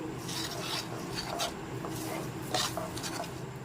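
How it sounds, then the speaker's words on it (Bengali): Mango pulp and sugar being stirred in a pan, a soft, quiet scraping and rubbing that continues steadily, with occasional light clinks of the utensil against the metal. "আমের পাল্প সাথে চিনি মিশিয়ে একটু নেড়ে চেড়ে নিতে হবে ভালো করে চিনিটা মিশিয়ে নাড়াচাড়া করতে থাকছি"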